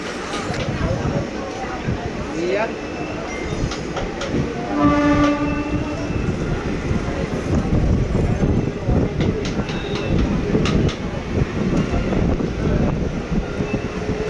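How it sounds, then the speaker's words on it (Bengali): Passenger train pulling away and running steadily near Serampore, with a loud continuous rumble of wheels on rails, a brief horn or whistle tone in the middle, and faint voices underneath. "দেখতে দেখতে আমাদের ট্রেন ছেড়ে দিল"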